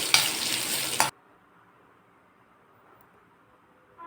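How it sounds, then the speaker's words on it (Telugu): Cumin seeds, urad dal and dried red chillies fry in oil, a bright, loud sizzle for about a second that cuts off abruptly into near silence, with a faint return at the very end. "ఒక స్పూన్ జీలకర్ర ఒక స్పూన్ మినపప్పు రెండు ఎండుమిరపకాయలు వేసి అన్నిటిని దోరగా వేయించుకోవాలి"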